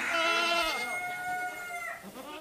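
Goats on a busy petting farm bleat in a loud, close, wavering cry that holds for most of two seconds, with other farm animals faint in the background.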